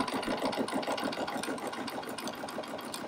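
A sewing machine stitching quilt blocks, its needle running in a fast, steady mechanical rhythm from start to finish.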